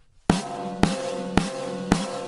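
Snare drum with its snare wires tightened, struck with a drumstick four times at an even pace, each hit a bright cracking snap with buzzing rattle ringing on between strikes, close and clear.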